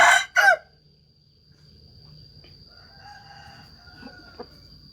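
A loud, close rooster crow bursts out at the start, followed by a quieter background of soft clucks and a steady high tone.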